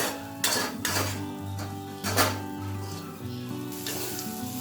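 Chutney stir-fries in a pan with a close sizzle, broken by repeated spatula scrapes and metallic clinks against the pan, a few strokes in quick succession.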